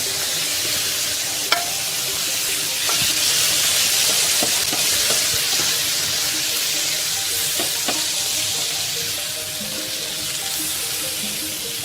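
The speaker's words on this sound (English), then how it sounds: "now we're going to saute the prawns a little bit" Prawns sautéing in a pan for seafood paella give a continuous close sizzle lasting the whole stretch, broken by occasional clinks and scrapes as the prawns are turned.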